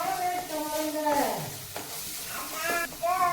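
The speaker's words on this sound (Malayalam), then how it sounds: "നമ്മുടെ മല്ലിപ്പൊടി മഞ്ഞൾപ്പൊടിയൊക്കെ ഒന്ന് നന്നായിട്ട് ഒന്ന് ചൂടാവാൻ വേണ്ടിയിട്ടാണ്" Coriander and turmeric powder sizzle steadily as they heat in a pan for a Malabar-style raw mango curry, with a soft continuous frying hiss and occasional stirring scrapes.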